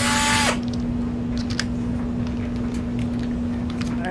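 A DeWalt cordless drill whirs loudly for a brief moment, then settles into a steady mechanical hum that carries on throughout, close by and with no speech.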